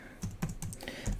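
Someone types on a computer keyboard to test a French layout, with a handful of quiet, separate key clicks in an uneven rhythm.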